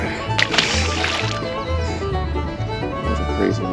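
A released fish splashes and thrashes away through shallow pond water, a few close wet slaps and sloshes over a steady low hum, with a voice speaking briefly.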